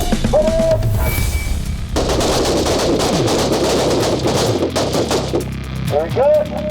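Heavy bursts of gunfire from a .50 calibre gun on a shooting range, loud and close, with booming reports rolling through several seconds and a voice briefly heard at the start and end.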